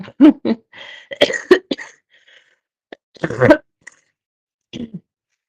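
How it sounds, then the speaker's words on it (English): A person with a lingering cough lets out several harsh, close coughs and throat-clearing bursts in an irregular cluster, separated by short quiet gaps, with a few fainter coughs near the end. "The only thing I can't get rid of is the damn cough."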